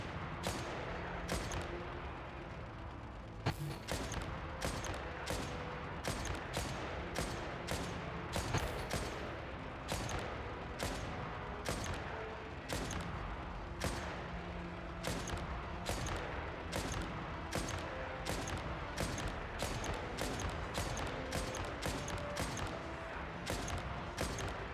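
Sustained assault rifle gunfire in a sci-fi video game battle, dense overlapping bursts and single shots rattling almost continuously at steady loudness with a constant background of combat noise.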